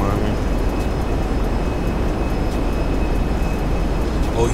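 Plane climbing after takeoff in the video game GTA 5, a steady engine drone and wind roar holding at an even level, with someone talking over it.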